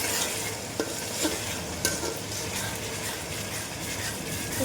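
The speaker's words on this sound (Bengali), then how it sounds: "তারপরে দেখো, এটা এরকম নাড়তে থাকবে।" Chicken do pyaza sizzles in a pan while being stirred steadily, with a constant frying hiss and a few sharper scrapes and taps of the utensil against the pan. No voices are heard.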